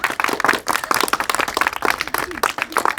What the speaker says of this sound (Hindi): ताली बजा दो एक बार इस बच्चे की